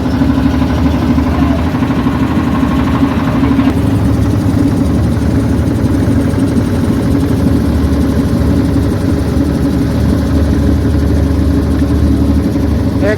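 A motorboat engine drones steadily on the river at Kashi's ghats among many boats, a loud, unbroken mid-pitched hum with a slight shift in tone partway through.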